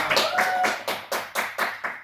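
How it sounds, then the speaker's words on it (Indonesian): A classroom of students claps hands together in a steady unison rhythm, about seven sharp claps in two seconds, close and fairly loud with no talk over them. "Tepuk tangan untuk kita semua"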